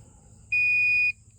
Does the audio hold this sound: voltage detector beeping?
yes